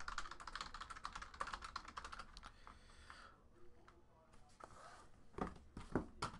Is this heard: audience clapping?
no